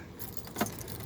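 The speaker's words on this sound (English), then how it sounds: "this is the key for the door" Car door key jangling and scraping in the door lock of a Camaro with no power buttons, a faint, brief metallic rattle with one sharper click near the middle, heard close in a quiet setting.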